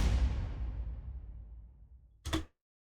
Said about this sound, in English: what I did was added this transition effect